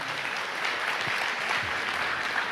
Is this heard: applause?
yes